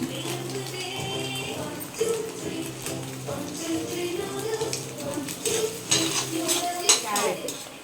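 Onions added to oil in a pan for a rice dish, with scraping stirs and clinks of a spoon against the pan, plus a low sizzle under intermittent talking.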